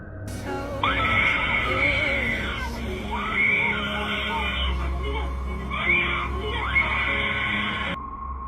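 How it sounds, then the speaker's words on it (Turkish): A child screams at night while staring up at the ceiling, loud shrill cries rising and falling over about seven seconds with a steady low hum beneath, the screams repeating in several bursts close to the listener. "çocuk bir anda tavana doğru bakarak çığlıklar atmaya başlıyor"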